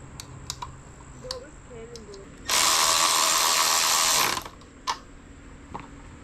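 Screws are tightened on an e-bike with a toolkit: soft clicks, then a loud, steady two-second whirring burst, then a few more faint ticks, without speech.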